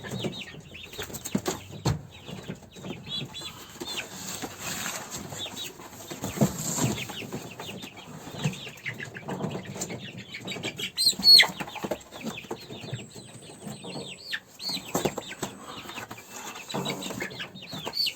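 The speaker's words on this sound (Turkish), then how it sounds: "bu da Türken civcivleri." Young Turken chicks cheep and cluck in short scattered bursts, with occasional soft wing flaps, fairly close and quiet.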